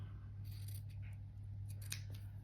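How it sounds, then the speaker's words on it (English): Scissors snip through quilting fabric while cutting a rectangle for a small landscape quilt, giving a few soft, close crunching cuts over a steady low hum. "I'm going to cut a rectangle"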